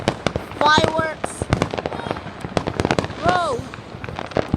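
Fireworks going off at a WrestleMania event, a dense rapid barrage of sharp cracks and pops, loud and close, with excited voices exclaiming over it.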